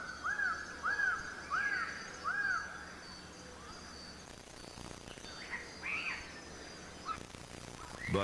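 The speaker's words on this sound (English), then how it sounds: "the bird voices they heard throughout the forest" Repeated bird calls in a New Guinea forest, a series of arching chirps in a steady rhythm, ring out over a faint insect-like hum, with a later burst of calls at a distance.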